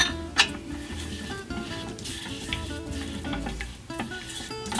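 Flour and oil for cream gravy sizzling in a pan, a steady close frying crackle with faint scraping and stirring noises running all the way through.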